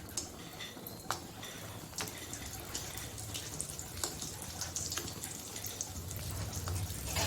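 Lentil dumplings (bori) frying in hot oil, a steady crackling sizzle with scattered sharper pops throughout, fairly loud and close with no talking.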